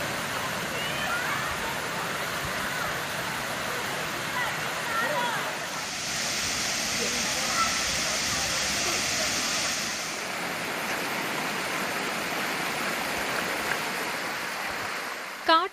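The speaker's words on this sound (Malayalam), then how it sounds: "കാട്ടരുവികളിലൂടെ പാറക്കെട്ടുകളെ തഴുകിയെത്തുന്ന തണുത്ത വെള്ളത്തിൽ കുളിക്കുവാനാണ് സഞ്ചാരികൾ മീൻപിടിപ്പാറയിലേക്ക് എത്തുന്നത്" Cool forest stream flowing over rocks at Meenpidipara near Kottarakkara, Kerala, a constant hissing rush of water with a brighter surge in the middle, steady and fairly close.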